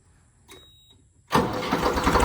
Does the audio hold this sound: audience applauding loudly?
no